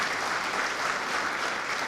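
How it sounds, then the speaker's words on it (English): Steady, dense applause from a crowd honoring army veterans at an outdoor ceremony, an even wash of many clapping hands throughout. "round of applause."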